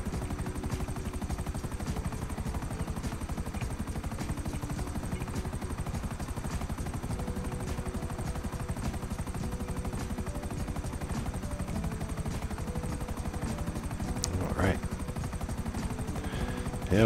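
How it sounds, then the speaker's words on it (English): Steady helicopter rotor drone in GTA Online, continuous and fairly loud for the whole stretch, with a faint burst of game noise near the end and a player talking over it. "and our very last helicopter."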